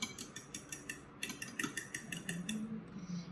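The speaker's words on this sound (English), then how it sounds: "So we're gonna add in the milk and just mix it" Milk being mixed into whisked eggs with a utensil, a quick rhythmic ticking of metal against a bowl, close and fairly quiet, with no voices.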